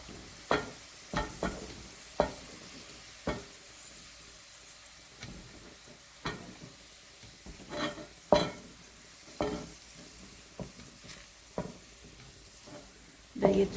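Onions frying over moderate flame in a pan for Delhi-style chicken and potato biryani, a constant soft sizzle broken by repeated sharp scrapes and clatters of a spatula stirring, close and without talk.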